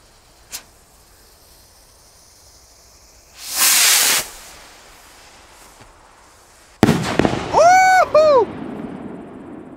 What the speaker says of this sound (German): Nochmal eine Classic-Rakete, die nicht im Trockenen lag.